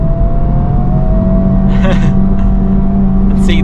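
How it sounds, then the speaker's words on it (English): A 2024 Honda Civic Type R engine holds a loud, steady drone in second gear while being revved out on a drive, with tonal hum and brief mechanical clicks over the cabin rumble. "We'll keep it in second for a bit just to rev her out"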